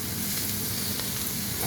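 A halal T-bone steak sizzles loudly in a pan while being basted with butter, giving a constant close hiss and crackle with no talking.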